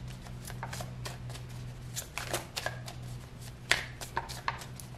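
Tarot cards are shuffled and drawn by hand, a close run of quick papery riffles and flicks in irregular bursts over a low background hum.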